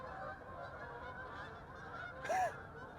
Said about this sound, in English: A flock of geese flew overhead.